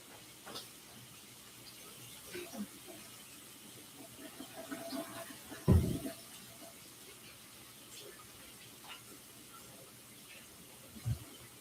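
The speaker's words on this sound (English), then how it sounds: "I'm going to wash the hamburger off my hand." A tap runs while hamburger is washed off hands at a home kitchen sink, a faint, steady watery hiss with a few soft splashes and bumps partway through.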